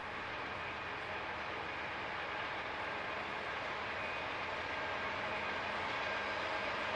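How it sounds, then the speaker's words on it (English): A heavy rumbling roar of a passing CSX freight train rounding a bend near Mather, Pennsylvania, steady and broadband throughout, with no voices. "you can see the train coming round the bend"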